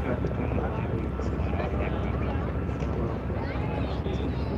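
Radial-engine aircraft flying at the Illawarra air show, a steady loud droning engine roar held throughout, with crowd and commentary voices underneath.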